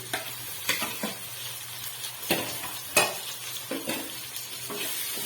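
Two chopped tomatoes fry in a pan with ginger-garlic paste for vegetable egg fried rice, a close, steady sizzle broken by repeated sharp spatula scrapes and knocks against the pan.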